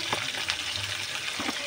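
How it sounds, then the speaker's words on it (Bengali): Fish frying in oil in a pan is stirred, giving a steady low sizzle with soft scraping strokes near the start and again toward the end. No talking. "তেলটা দেওয়ার পরে এবার মাছটা নেড়ে নেব।"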